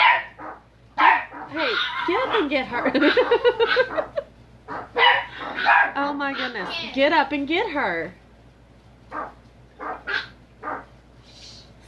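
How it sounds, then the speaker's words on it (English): Dogs bark repeatedly in bursts, some sharp yips among them, loud and close indoors while someone talks over them, the barking trailing off into a few sparse barks near the end. "Sorry, my dogs are going ballistic here and stuff outside."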